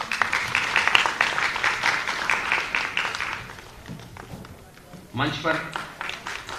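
Audience applause welcoming guests on stage at a state-level Gargi award ceremony in Jaipur, a dense sustained clapping for about three seconds that fades, then an announcer speaks over the hall.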